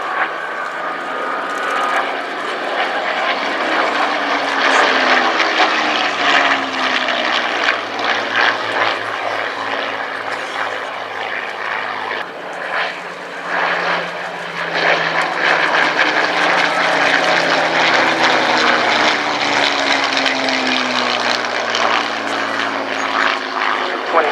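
Mark 9 Spitfire in desert camouflage flying at the RAF Cosford airshow, its propeller engine droning loudly and continuously while swelling and fading through passes, with a commentator talking over it.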